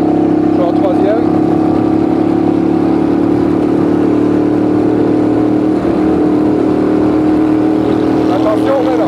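Honda Shadow VT 600 motorcycle riding in third gear, its engine a steady, loud, close droning hum that holds an even pitch throughout with constant road and wind noise.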